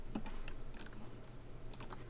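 Computer keyboard typing in short quick bursts of keystrokes, faint and close, with brief pauses between runs of clicks.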